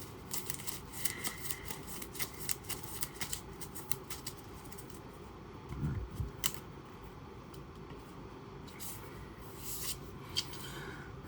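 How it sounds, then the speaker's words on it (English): Marvel Champions encounter deck cards being shuffled by hand in a quiet room, a soft continuous riffling and flicking with one louder burst of card noise in the middle, no voices. "So now we shuffle the encounter deck"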